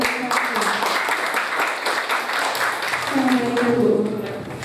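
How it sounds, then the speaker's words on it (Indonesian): An audience at a village mental health cadre training claps together in a dense, sustained round of applause, with voices rising over the clapping toward the end. "Oke, berikan aplaus dulu."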